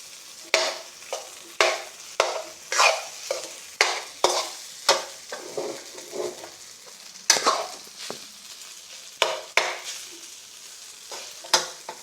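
Homemade fried rice being stirred in a pan, a spatula scraping and clanking in irregular strokes over a soft sizzle, close and distinct across about a dozen seconds, with no one speaking.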